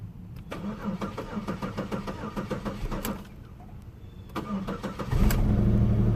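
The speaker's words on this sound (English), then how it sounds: "Okay, let's start it up and see what it does." A car engine with failed head gaskets cranks with rapid ticking turns, pauses, cranks again, then catches and settles into a steady, loud idle.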